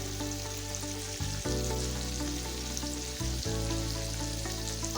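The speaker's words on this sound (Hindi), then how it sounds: "अब हम इसमें गोश्त ऐड कर देंगे और इसे अच्छे से भून लेंगे।" Mutton pieces sizzle loudly in hot oil with browned onions in a pan for Kabuli pulao, a dense steady frying hiss with a couple of brief dips as meat is added or moved, no voices.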